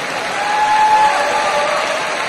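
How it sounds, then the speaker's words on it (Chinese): Arena audience applauding after Elena Radionova's figure skating gala exhibition at the 2016 Cup of China, a broad steady wash of clapping with faint cheering and a held musical tone underneath. "掌声感谢精彩表演。"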